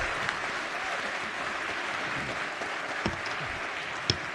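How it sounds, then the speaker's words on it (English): Sustained applause from an audience on a state House of Delegates floor session, honoring a youth football state championship team; steady, dense clapping fills the whole stretch with no talk over it. "So please stand up again and give these young men a big round of applause."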